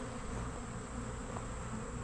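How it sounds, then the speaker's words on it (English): Swarm of honeybees buzzing, a dense continuous drone that holds steady and close without any pause. "there's so many bees, guys, that it doesn't even make good sense"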